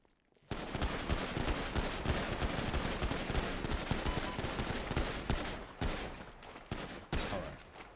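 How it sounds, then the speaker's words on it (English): Gunshots ring out at a police academy firing range in a video game, a dense, sustained volley of overlapping shots with a brief lull near the end before a few more loud bursts. "Aim down range and shoot."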